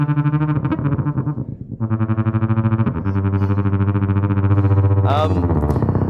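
Electric guitar through an effects pedal preset modeled on the sound from the film Tenet, sustained distorted chords with a warbling, swelling texture and a brief sweeping glitch near the end.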